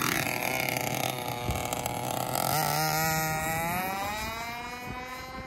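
A gas-powered HPI Baja 5B SS RC car engine, rated at 7.5hp, idles and warms up outdoors with a steady buzzing drone whose pitch shifts and rises partway through, recorded close and continuous.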